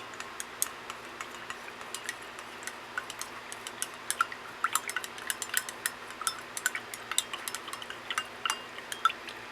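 Light clinks and ticks of a utensil handle stirring liquid in a container during comic book conservation work, repeated irregularly and fairly faint, with a soft liquid quality and no talking.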